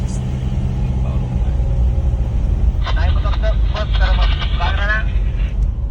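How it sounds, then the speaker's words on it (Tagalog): A motorcycle passes on a road, its engine rumbling close under steady low road and vehicle noise, with a brief rising whine in the middle. "ayan, motor oh"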